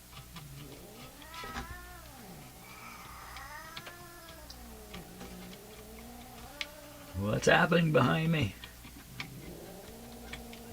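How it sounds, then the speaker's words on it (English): Cats in a confrontation yowl and caterwaul in long wavering cries somewhere in the background. Someone talks over them before a loud, harsh burst of fighting flares up near the end. "A cat confrontation is going on."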